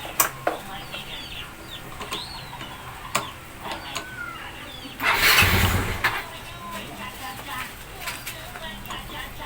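A Yamaha Mio Sporty scooter with a push-start problem gives a few scattered clicks, then a brief roaring engine burst of about a second before it drops back to a quieter ambient background.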